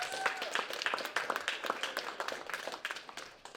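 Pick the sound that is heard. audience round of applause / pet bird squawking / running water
audience round of applause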